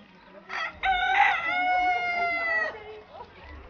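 A rooster crows once on a poultry farm, a clear drawn-out call of a couple of seconds after a short cluck, over faint low background noise.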